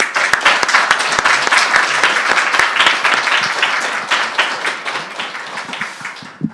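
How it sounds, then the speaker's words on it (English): A seminar audience applauds the panelists, with dense, steady clapping from many hands that carries throughout and tapers only slightly toward the end. "So warm hand of applause to all of them."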